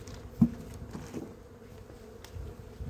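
Honeybees buzz around a hive being moved aside during a colony merge, a low steady hum with a brief louder swell near the start, moderately close and alone.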